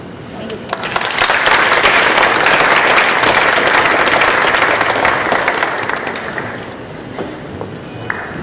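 Sustained audience applause after a talk on building a local food economy and Buffalo Public Schools food, loud and dense from the start, easing slightly toward the end.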